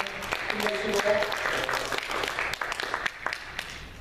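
Church congregation applauding during a Sunday worship service, a moderate wash of clapping that tapers into scattered claps, with some background voices.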